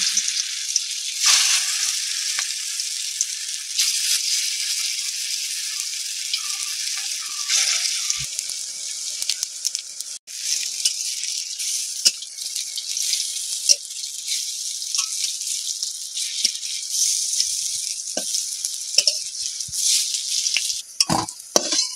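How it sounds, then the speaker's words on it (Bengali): Wax gourd pieces fry in hot mustard oil with a steady, close hiss that runs throughout, broken by occasional soft clicks and stirring scrapes, with no voices. "তেল গরম হয়ে গেছে, আমি এটা ভেজে নেব।"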